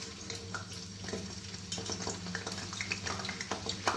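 Tap water runs steadily into a sink while food is rinsed for an Odia-style potato and chicken curry cooked in mustard oil, a continuous close splashing hiss with small clinks, no talk.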